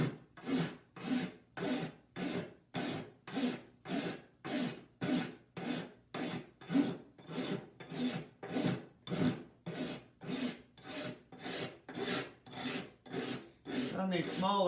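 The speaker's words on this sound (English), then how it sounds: "I use the smoother part of the rasp more often than the rough part" A rasp files a small stone pipe in steady back-and-forth strokes, about sixteen rhythmic scraping rubs at close range with short pauses between them, and no talking.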